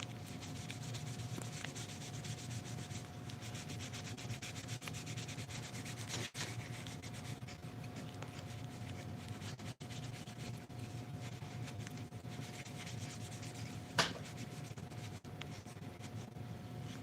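Sandpaper rubs back and forth over a handmade wooden puzzle in a continuous, even scratchy swish, close and fairly quiet, with a couple of brief knocks.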